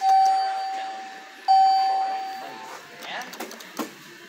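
A 2003 KONE elevator at a Target store gives two clear electronic arrival chimes, a bright single tone then a second one, followed by faint indoor background noise and brief voices.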